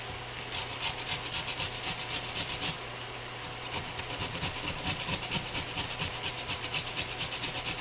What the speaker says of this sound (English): I'm going to go ahead and grate the carrot.